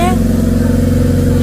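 A Honda motorcycle engine idles steadily right after starting, warming up with a low, even rhythmic thrum, close and loud throughout.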